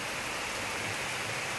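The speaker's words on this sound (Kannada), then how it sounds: "ಜೋರು ಮಳೆ ಬರ್ತಾ ಉಂಟು." Heavy rain falls in a steady, dense broadband hiss that fills the short stretch evenly, with no breaks or voices.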